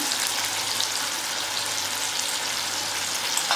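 Tomatoes sizzle and fry steadily in hot oil in a pan as turmeric and red chili powder go in for a mixed bean curry, a continuous close hiss with no voices.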